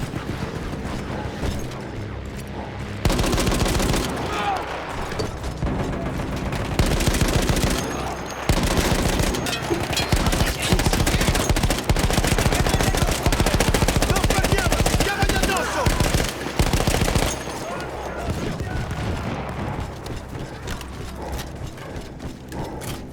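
A mounted machine gun in the video game Battlefield 1 fires long, loud, rattling bursts with brief pauses between them, alongside mechanical clatter and background battle noise.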